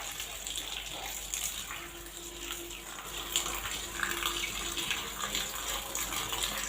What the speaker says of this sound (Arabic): وانا بقى ايه نغسلهم كده مع بعض كده اهو